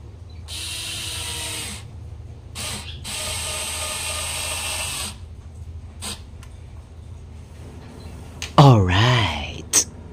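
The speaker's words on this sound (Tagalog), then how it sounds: "ito na nga yung last piece natin sa pag-screw guys at matatapos na talaga to" A screwdriver drives screws into a perforated metal speaker screen in bursts of ratcheting whirs separated by pauses, close by, followed by a short rising-and-falling mechanical whine near the end.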